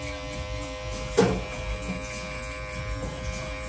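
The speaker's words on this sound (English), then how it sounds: "I wonder if it's picking up the clipper sound pretty good" Stylecraft Apex hair clippers with the blade open cut hair, giving a steady close electric buzz with a brief louder burst partway through as the blade passes through hair.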